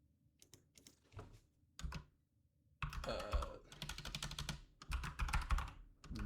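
Computer keyboard typing, in quick bursts of clicky keystrokes with short pauses, then a denser, louder run of rapid keys, heard close and alone with no voices.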